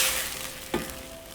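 Scrambled tofu being stirred in a frying pan, with a steady soft sizzle throughout and one brief scrape of the spoon partway through; fairly quiet and close, with no talking.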